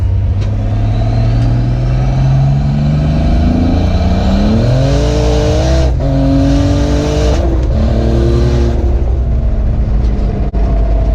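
A turbocharged BMW E46 with an M54 engine roars loudly and continuously, revving up through rising gears with brief shifts between pulls, very close and dominant.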